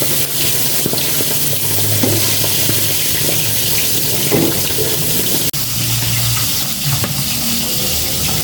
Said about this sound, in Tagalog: prito-prito po ako ng talong ngayon